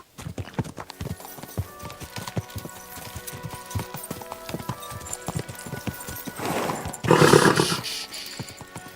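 Rapid video-game horse hoofbeats clip-clop steadily throughout, with a burst of louder rushing noise near the end and a brief whinny-like sound.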